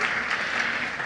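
Church congregation applauding during a worship service, a steady wash of clapping hands at a moderate level, continuous and fairly dense throughout the short moment with no voices standing out.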